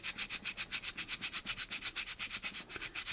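Quick rhythmic back-and-forth strokes of a sandpaper block sand the curved part of a Magnatomic chiller model, about twenty even scratchy rubs, quiet and close with no talking.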